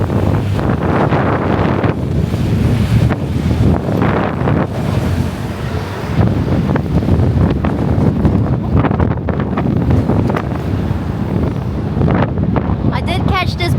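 Strong wind roars and buffets the microphone while cycling across a bridge in London on a very windy day, loud and continuous with gusty surges, as someone talks over it.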